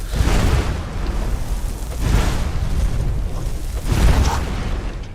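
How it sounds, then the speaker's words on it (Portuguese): Explosions in The Elder Scrolls V: Skyrim rumble as dense, continuous booming noise with a few stronger bursts, loud and alone without talk. "as explosões estão chamando mais a atenção deles"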